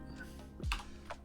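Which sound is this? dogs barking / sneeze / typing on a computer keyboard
typing on a computer keyboard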